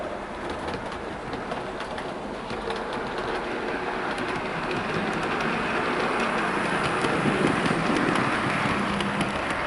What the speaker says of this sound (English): here is the Class 24 pulling all of my current RTC liveried